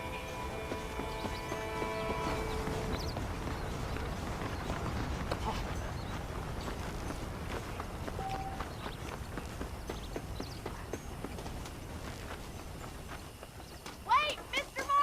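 Horse hooves clip-clop steadily in Red Dead Redemption, a saddled horse moving at a walk under continuous game ambience, with a voice speaking over much of it and a few sharper sounds near the end.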